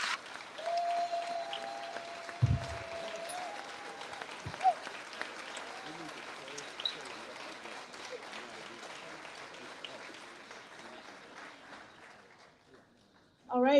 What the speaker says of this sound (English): Can we give one more round of applause for Ms. Tariqa Lewis